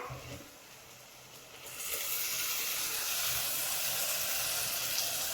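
Tomato paste sizzles in a pan for a mackerel fish curry, starting as a faint hiss and then jumping to a loud, steady frying hiss that lasts to the end.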